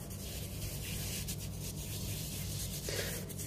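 Hands rubbing a coffee scrub over the face make a close, steady soft rasping and swishing, continuous for a few seconds with slight swells in intensity.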